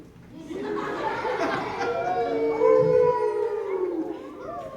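A dog howls in a long, wavering, rising and falling note, loud and close, lasting several seconds.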